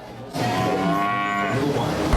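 Cattle at a cow show give a long, loud, drawn-out moo lasting nearly two seconds, close by with harmonic lowing and no speech over it.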